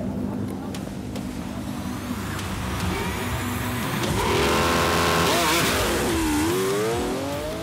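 A Lamborghini accelerates hard down a straight in a drag race, its engine roaring louder and rising in pitch through several gear changes, heard from nearby over crowd noise.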